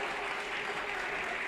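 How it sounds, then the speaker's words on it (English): A high school basketball crowd from Bexley cheering and clapping at a varsity game, a dense, loud wash of applause and voices filling the whole brief moment. "Bexley's crowd getting excited here"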